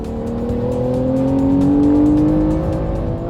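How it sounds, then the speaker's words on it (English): The flat-six engine of a 2019 Porsche 911 Carrera S hums loud and steady, its pitch rising gradually as the car accelerates on a track, heard from inside the cabin. "there's a little bit of cheating in the form of the speakers enhancing that classic flat 6 tune in the cabin"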